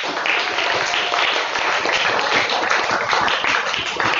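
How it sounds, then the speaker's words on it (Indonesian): A school audience claps together in steady, dense applause that fills the hall at full strength from start to finish, with no clear voices over it. "tepuk tangan untuk kita semua"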